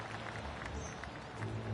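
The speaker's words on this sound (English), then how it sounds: "I can hear the golf claps around the course." Soft golf claps from a course crowd at Bay Hill Club during the Arnold Palmer Invitational in PGA 2K25, a steady low patter of distant applause with ambient hum throughout.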